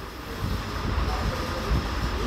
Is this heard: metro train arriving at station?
yes